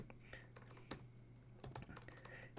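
Keys click in quick, irregular bursts on a computer keyboard as a search query is typed into the UniProt database, soft and close, with a faint steady hum underneath.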